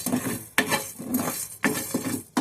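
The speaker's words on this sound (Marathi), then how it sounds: "छान मसाले परतून घ्यायचे" Spices for kachori filling sautéed in a pan, with several sharp stirring scrapes of a spoon against the pan over a soft sizzle, close up and rhythmic, and no voices.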